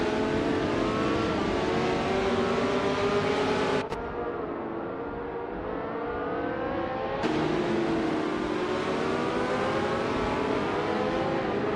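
Race car engine of a 1968 Mackie Mark 12 in a racing video game, droning and revving steadily as it laps mid-pack, with pitch sweeps and a brief muffled dip partway through, loud and continuous.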